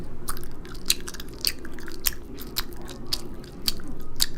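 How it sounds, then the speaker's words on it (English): Loud, wet chewing and biting done up close as a demonstration, with crisp crunchy smacks repeating roughly every half second over a steady low rumble of background noise. "First one we have here, loud chewing."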